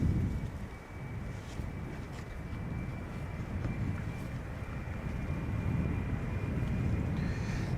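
A 14-year-old KLM Embraer 190 jet departs Amsterdam Schiphol Airport for Glasgow, a steady, broad low roar that builds gradually in loudness, mixed with wind buffeting the microphone.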